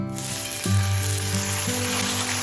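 Salmon pieces with skin on frying in hot mustard oil, a steady loud sizzle filling the pan with a faint low hum underneath, no voices.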